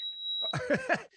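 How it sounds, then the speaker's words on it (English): A steady high-pitched electronic alarm tone sounds for about half a second, then gives way to close bursts of laughter and voices. "you're setting off the alarms."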